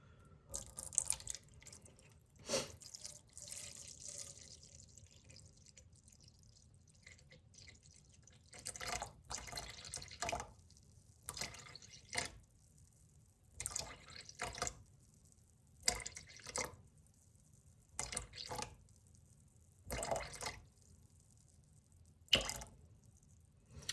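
Natural spring water pours into a bowl set on a kitchen scale while weighing water for sourdough, arriving in quiet, intermittent splashing bursts separated by short pauses.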